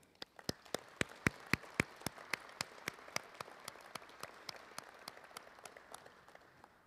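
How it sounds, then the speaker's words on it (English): A small audience claps at the grand opening of an Air Force humanitarian missions event, the sharp, distinct claps close and rhythmic, thinning and fading out over several seconds. "please join me in a round of applause"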